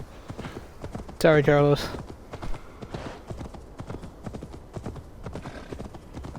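Horse hooves clip-clopping in Assassin's Creed Valhalla as an out-of-stamina horse is ridden, a quick irregular patter of galloping footfalls under game sounds, with a brief spoken remark over it.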